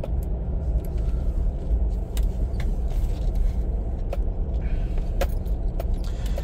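A vehicle rolls into a truck yard with a steady low engine and road rumble heard from inside the cab, dotted with scattered light clicks and rattles.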